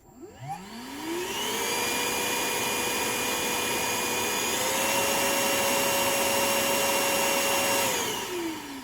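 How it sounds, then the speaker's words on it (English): A Parkside PAWD 20-Li A1 cordless wet and dry vacuum cleaner starts up and runs with a steady whining motor hum, rising in pitch partway through as it shifts to a higher speed, then spinning down at the end; no talking. "The vacuum cleaner is surprisingly quiet."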